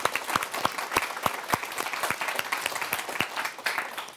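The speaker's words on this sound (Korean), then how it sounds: "박수 한번 주세요." A youth lecture audience applauds, a moderately loud patter of many hands with a few sharper distinct claps standing out, continuing for several seconds without speech.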